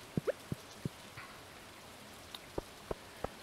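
Rain in the video game Stardew Valley, heard as scattered soft plinks and patters, a handful of separate drops landing at uneven intervals over a quiet, faint background.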